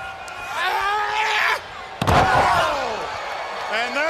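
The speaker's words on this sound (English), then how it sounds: "Tilt-a-whirl slam by Mongo has Guerrero in trouble" A professional wrestling tilt-a-whirl slam lands on the ring mat at a 1997 WCW match in Columbia, a sharp loud thud midway through, under excited commentary and crowd noise.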